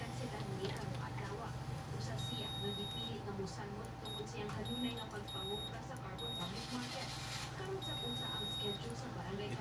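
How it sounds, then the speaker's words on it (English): A Keysight U1242B multimeter in diode mode gives a series of thin electronic beeps, some short and some held for a second or so, while a person talks quietly nearby. "it also has a buzzer when you're in diode mode"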